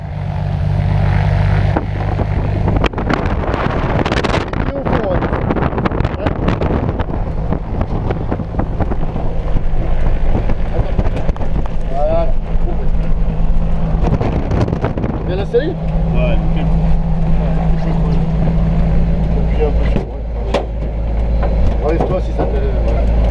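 Skydiving plane's propeller engine running before a parachute jump at Tarbes, a loud, continuous drone buffeted by heavy wind noise throughout, with people talking over it.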